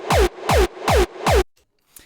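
A punchy kick drum layered with a sampled reverb hit for a gated kick sound, four loud, evenly spaced hits, each with a pitch-dropping thump and a short dense burst of gated reverb that stops sharply, followed by near silence and a faint tap.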